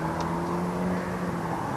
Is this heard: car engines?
yes